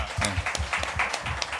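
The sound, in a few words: applause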